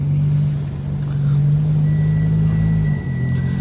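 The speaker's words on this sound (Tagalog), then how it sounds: "So bali nililipat lang natin yung ating sasakyan." A car engine rumbles and idles steadily as the vehicle is moved around a car dealership lot, loud and close throughout, with a brief dip near the end.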